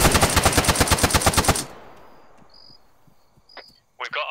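A rapid burst of about a dozen loud, evenly spaced shots in Arma 3, fired from a 40mm grenade launcher during a modded night mission, cuts off abruptly into near silence with faint insect-like chirps and a brief voice at the end.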